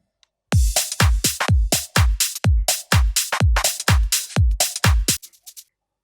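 A full electronic drum groove with toms and slightly off-grid shakers plays alone in a steady run of punchy, repeated hits for about five seconds before stopping.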